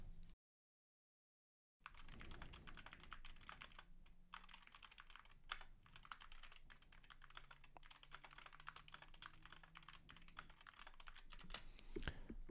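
Rapid, continuous typing on a MacBook keyboard picked up by an Antlion Kimura IEM microphone as a background noise test, crisp clicking keystrokes close by after a brief silent gap, with no voice.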